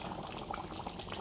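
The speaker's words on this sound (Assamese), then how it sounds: "এইফালে এয়া জোলখনো উতলি আছে" Duck curry broth boils in a pot, giving a faint, steady bubbling and simmering with small pops, heard alone and quietly.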